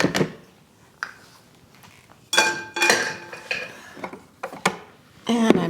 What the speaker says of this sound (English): And I'm taking the beaters off.